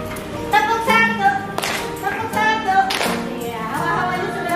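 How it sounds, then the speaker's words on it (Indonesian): A group claps on a one-beat cue during a teacher-training session, with a few sharp, separated clap bursts over a continuous background of tonal voices. "Tepuk satu."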